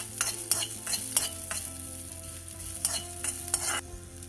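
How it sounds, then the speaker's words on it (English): Cumin seeds, coriander seeds and green chilies sautéing in a pan, a soft steady sizzle broken by repeated scraping strokes of a spoon stirring the pan, close by and with no talk. "coriander seeds, green chilies, saute them a little bit."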